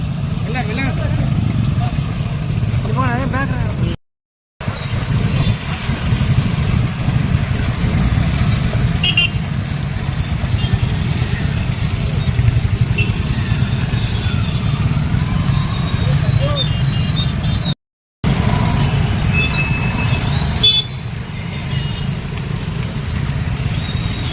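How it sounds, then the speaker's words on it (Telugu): Motorcycles and other vehicles of a bike rally gather and set off from a stadium in Adilabad, a steady dense engine rumble with occasional horn toots and crowd voices throughout, broken by two brief silent gaps. "ఈరోజు ఇక్కడ ఆదిలాబాద్ పట్టణంలో స్టేడియం నుంచి ఒక బైక్ ర్యాలీ కార్యక్రమం ప్రారంభించడం చేయడం జరుగుతుంది"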